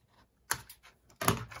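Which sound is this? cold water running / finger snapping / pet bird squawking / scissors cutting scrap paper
scissors cutting scrap paper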